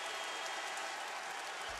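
A college basketball crowd in a Knoxville arena during Tennessee versus Kentucky claps in a dense, steady wash of applause throughout the short moment. No one speaks.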